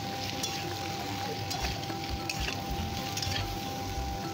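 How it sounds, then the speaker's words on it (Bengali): Drumstick pieces (sajne data) frying in oil in a pan, a steady close sizzle with occasional clinks and stirring scrapes, continuous and even throughout with no talk. "সজনে ডাঁটাগুলো দিয়ে একটুখানি কিছুক্ষণ ভেজে দেবো"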